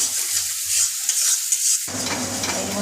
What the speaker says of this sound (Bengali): এটা এখন একটু ভাজা ভাজা হবে, তারপরে মাংসটা দিয়ে দিব